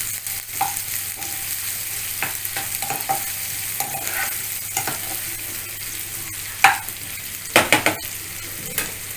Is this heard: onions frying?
yes